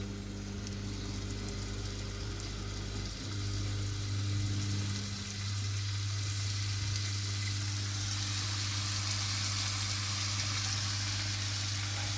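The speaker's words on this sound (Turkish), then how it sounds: "Kuru köftelerimizi böyle sıcak tavaya yerleştiriyoruz." Kuru köfte meatballs sizzle in a hot cast iron pan, a steady, fairly faint frying hiss with a low background hum, continuous and without talking.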